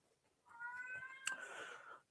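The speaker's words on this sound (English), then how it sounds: "if you guys hear meowing in the background, that's my cat." A cat gives one drawn-out, fairly quiet meow in the background, rising then tapering over about a second and a half.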